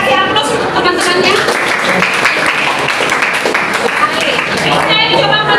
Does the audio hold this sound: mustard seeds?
no